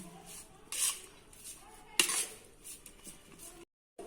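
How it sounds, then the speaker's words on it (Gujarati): Raw papaya sambharo with salt, sugar and lemon juice is mixed with a spoon in a bowl, giving a few light clinks and soft scrapes against the sides, close and fairly quiet, with no talking. "હવે આપણે આને બધી જ વસ્તુને મિક્સ કરી દઈશું."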